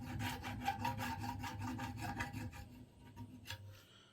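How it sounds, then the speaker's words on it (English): A flat file rasps across metal to remove a burr on a brake booster delete part, a quick series of close scraping strokes in a steady rhythm, ending with a couple of lighter scrapes. "Take you a flat file and just hit that real quick."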